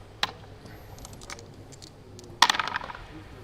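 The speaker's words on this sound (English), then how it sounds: "I love the way this dice box sounds in this big empty" Dice rattling in a dice box during a Warhammer 40k tournament game, heard as a sharp click, then a brief clattering burst of several tumbling dice a couple of seconds later, close and crisp in a quiet, roomy space.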